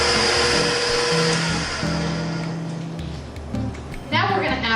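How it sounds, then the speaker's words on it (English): A shielded kitchen mixer whirring steadily as it blends wet ingredients for gluten-free whole grain baguettes, a loud continuous motor drone with shifting pitch, heard under a person talking. "Now we're going to mix our wet ingredients until they're well blended."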